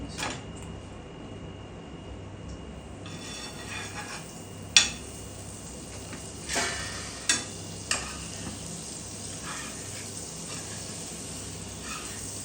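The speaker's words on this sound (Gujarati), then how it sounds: "સહેજ બટર મૂકી પરોઠો શેકવા મૂકી" Paratha roasting on a pan with a little butter, a soft steady sizzle running throughout with a few sharp clatters from handling the pan or spatula, no talking.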